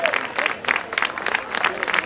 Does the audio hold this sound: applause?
yes